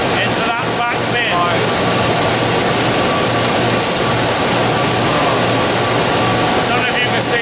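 A grain cleaner's blower blows oilseed rape seed into a back bin on a farm, a loud, constant roaring whoosh that runs the whole time under a voice.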